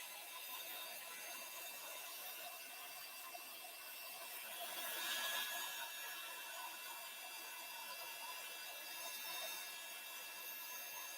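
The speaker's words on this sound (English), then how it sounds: "So I'm just going to heat set that." A heat tool blows a steady, even whoosh while setting stamped ink on a handmade card, holding constant for about eleven seconds at a soft, close level with no talking.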